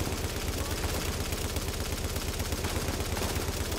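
Rapid gunfire from The Division video game, dense and continuous, with steady broadband bursts sustained throughout.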